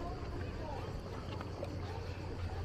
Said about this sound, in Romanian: Tura a doua de plimbare cu barca.